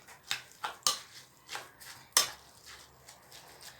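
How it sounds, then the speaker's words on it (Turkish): Dolma filling of chopped tomato and minced meat stirred in a pot, a spoon scraping and clinking against the metal in several short, sharp knocks with quieter scrapes between them, close and moderately loud. "Şöyle bir karıştıracağım."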